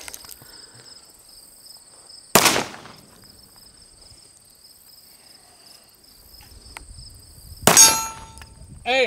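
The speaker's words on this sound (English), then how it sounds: "I missed the can and hit the steel" Two sharp, loud cracks ring out outdoors as a shot misses a can and strikes a steel target with a metallic clang, set against a steady chorus of insects.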